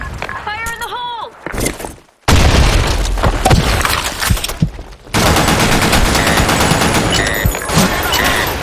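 Counter-Strike match on a desert sand map with a grenade blast and heavy gunfire, loud booming bursts and rapid shots close by, with a shouted game voice and an abrupt cut-off in between.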